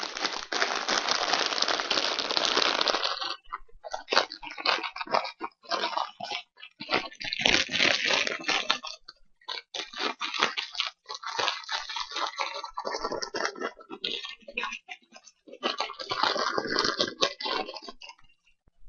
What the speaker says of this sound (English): we'll see if the actual rattling of like a potato chip or Doritos bag or whatever would gate the mic